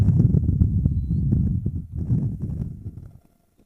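A mare being moved across a farm field, her hooves clip-clopping in a steady, fairly close rhythm over low rumbling movement before the sound drops away near the end.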